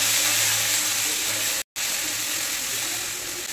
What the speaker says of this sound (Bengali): আদা রসুনের গন্ধটা যাতে না হয় সেই জন্য ভালো করে একটু ভেজে দিব।